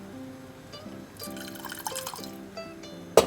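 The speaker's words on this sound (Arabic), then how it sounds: "هضيف لها شويه ميه صغيرين" A small splash of water is poured into tomato sauce for Egyptian koshari, a brief soft liquid pour in the pan alongside a faint background hum, ending with a sharp close clink.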